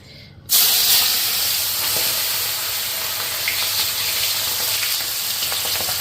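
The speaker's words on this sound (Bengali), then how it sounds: "এই মাছগুলি এখন তেলে দেওয়া মাত্রই ফুটা শুরু হইব" Aair fish pieces drop into hot oil and erupt into a sudden loud, broad sizzle that holds steady and bright, crackling on without any voices.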